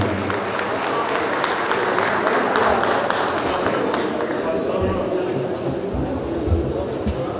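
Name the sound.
audience applause welcoming singers to the stage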